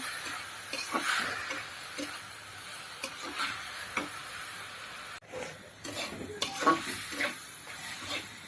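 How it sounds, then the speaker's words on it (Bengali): Leafy greens stir-fried in oil with dried chilli, onion and garlic over low heat, giving a soft sizzle with intermittent scraping and stirring clicks from a spatula, fairly quiet and close. "এবার আমি আস্তে জালে শাকটা ভেজে নেব সুন্দর করে"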